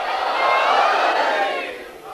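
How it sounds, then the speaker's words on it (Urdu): A large gathering at a religious address shouts slogans together, a loud massed roar of voices that swells and then fades over two seconds. "یہ سب نعرے ہیں آپ کی طرف سے، آپ کے جذبہ ایمانی کے"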